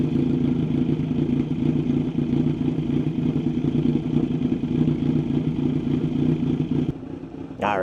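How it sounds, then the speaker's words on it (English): A Kawasaki Z900 inline-four motorcycle idles with a steady, loud, close rumble that holds evenly throughout, with a brief voice near the end. "We'll start it up, and we will listen to that rumble."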